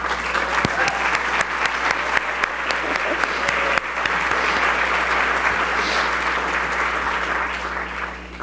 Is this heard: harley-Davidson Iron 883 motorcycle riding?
no